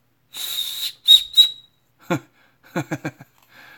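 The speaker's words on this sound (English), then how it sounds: "Oh, that made a whistle." A few sharp, high whistle blasts in quick succession, loud and close, followed by softer broken squeaky bursts, heard during an evening model build of an MG Zeta 2.0.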